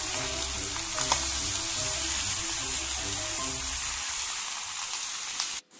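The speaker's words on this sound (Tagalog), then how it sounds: "Yan guys, lagyan na natin ang lahat ng chicken. Halu-haluin lang natin siya." Chicken stirred while frying in a pan, a loud steady sizzle with scraping and stirring movements, close up with no talking, cutting off abruptly at the end.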